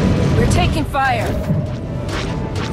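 A cannon shot and explosion boom in a Battle Scout carry video game, loud and dense throughout, with game voices and effects layered over the rumble.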